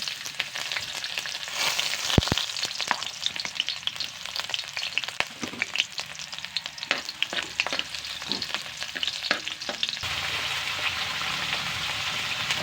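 Oil sizzles steadily as the sautéing base for dinuguan cooks, crackling and popping at close range with sharp stirring clatters scattered throughout, alone without talk.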